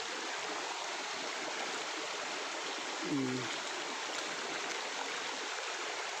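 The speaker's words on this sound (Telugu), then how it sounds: "ఇక్కడ చాలా కొండల నుంచి వాటర్ వస్తుంది" Stream water flowing down from forested hills in the rainy season rushes steadily in a continuous broadband flow, with a brief faint tonal sound partway through.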